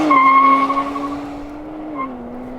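A car engine holds a steady high whine at close range, its pitch climbing slightly and then settling, with a brief blip near the end.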